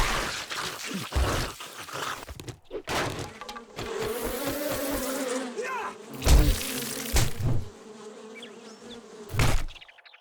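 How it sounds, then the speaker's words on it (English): Bees buzz in the video game 7 Days to Die, a steady droning hum that runs through most of the stretch, broken by several sharp smashing and breaking hits near the start and end. "Damn bees."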